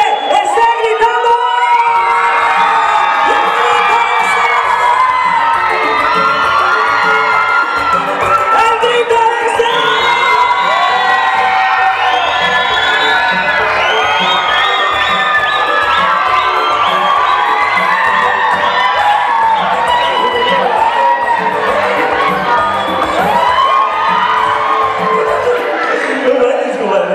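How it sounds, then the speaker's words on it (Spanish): Crowd shouting, whooping and cheering at a jaripeo rodeo event in Chicolopan, a dense, loud and continuous wall of voices with children's shouts mixed in, lasting throughout without a break. "¡Donde toda la gente esté gritando!"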